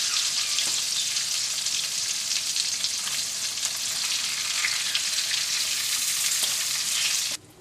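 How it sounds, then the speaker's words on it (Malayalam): Salmon fish pieces frying in hot oil in a pan, a steady loud crackling sizzle that continues evenly and then cuts off abruptly near the end. "നമ്മുടെ മീൻ വറുത്തെടുത്ത് റെഡി ആയിട്ടുണ്ട്"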